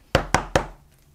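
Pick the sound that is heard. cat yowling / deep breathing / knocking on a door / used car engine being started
knocking on a door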